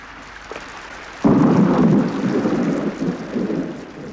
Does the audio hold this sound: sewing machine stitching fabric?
no